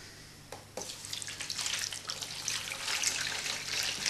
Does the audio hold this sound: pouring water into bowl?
yes